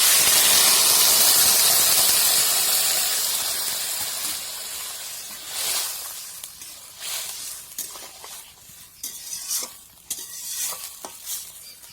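Water poured into a pan of frying potatoes and soybeans for an aloo-soybean curry erupts in a loud, hissing sizzle that fades over several seconds, followed by scraping and stirring bursts.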